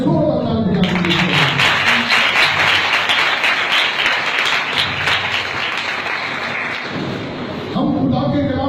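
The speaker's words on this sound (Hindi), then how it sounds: "आइए जोरदार तालियां दीजिए।" Loud congregational applause during a church sermon, rising right after the pastor's voice and holding dense and steady for several seconds before his speech resumes.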